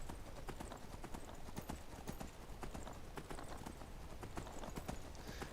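Horse hooves clip-clop at a fast, steady gallop in the Skyrim video game, the rapid hoofbeats running continuously and loud throughout, with a brief whinny.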